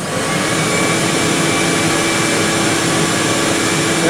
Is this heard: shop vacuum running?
yes